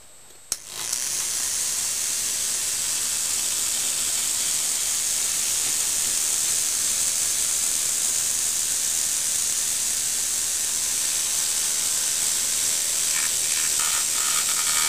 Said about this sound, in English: Amazing what a bit of spray paint can do.